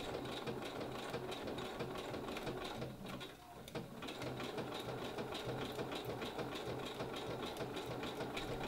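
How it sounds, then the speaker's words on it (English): A sewing machine running continuously as it zigzag-stitches ribbon to the hook side of Velcro tape for a costume collar, a steady fast mechanical chatter with a brief slowdown partway through. "secure the two together with a zigzag stitch"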